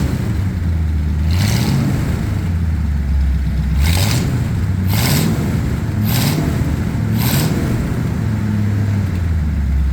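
A Ford F100 pickup with shortened glass pack mufflers sits at a loud, rumbling idle, broken by five sharp revs that spike and fall back, the last two close together.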